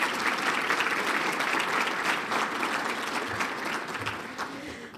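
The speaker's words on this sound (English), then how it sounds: "Yes, that deserves a round of applause." Sustained applause from a large audience at a city's State of the City event in Brownsville, Texas, steady and dense throughout with no pause.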